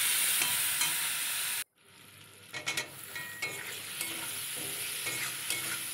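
Taro pieces fry with chili powder in a pan. A steady loud sizzle cuts out abruptly, then resumes with scraping stirs and softer crackling as liquid bubbles.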